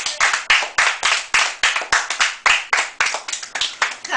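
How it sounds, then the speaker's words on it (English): Sharp hand claps in a quick, regular rhythm, roughly four per second, loud and close, with no voices over them. "Yo, clap it up."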